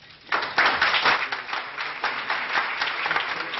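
Applause breaking out in a conference room as a French minister departs, many hands clapping in a dense, steady burst that starts suddenly and continues at an even level.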